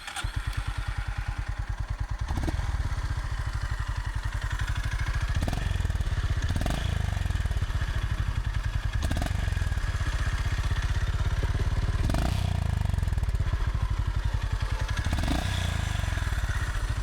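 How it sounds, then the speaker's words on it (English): A Honda CB350RS motorcycle idles up close, its exhaust giving a steady, even low thump with a smooth, continuous pulse and occasional slight blips, loud and alone without talk. "So let's hear the exhaust note of the CB350 RS."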